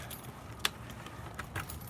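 A short metallic jingle of keys, with a brief sharp clink and a few lighter rattles, fairly quiet against a faint background hum.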